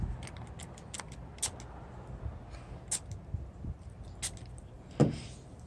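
Several short, sharp bursts from a spray bottle of alcohol-based ink hiss and click in quick succession, close by, followed by a stronger spray near the end.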